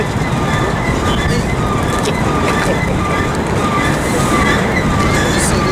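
A Union Pacific freight train rolls steadily past Riverside station, with a loud continuous rumble of wheels and cars and a faint higher squeal, heard close and unbroken throughout.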